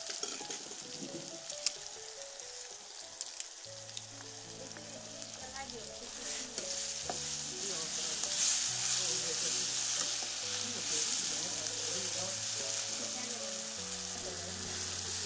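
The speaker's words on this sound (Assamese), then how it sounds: "ইয়াত তেজপাত দিম এতিয়া" Bay leaves sizzling and frying in hot oil, a steady close crackle with occasional stirring clicks, while quiet background music plays throughout.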